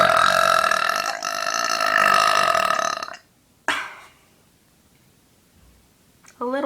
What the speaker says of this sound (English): those are my burps